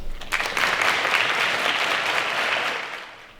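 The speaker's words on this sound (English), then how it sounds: "please help me applaud up our first contestant all the way up to the stage" Applause from the audience at a Poetry Out Loud recitation contest as the first contestant walks to the stage, swelling quickly, holding steady, then fading out near the end.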